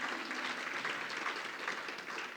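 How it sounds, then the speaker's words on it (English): Audience at a small business summit in Connecticut gives a round of applause, faint and somewhat distant, with steady clapping that carries evenly to the end. "Somewhere she's crying in Connecticut knowing that she just got a round of applause."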